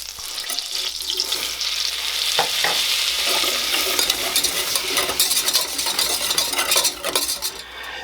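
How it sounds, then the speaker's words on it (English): A butter and flour roux bubbling in a pan while being stirred, a soft continuous sizzle and fizz with repeated scrapes and taps of a utensil against the pan, close and with no talk. "we're going to add 2 tablespoons of flour and make it into a nice bubbly paste"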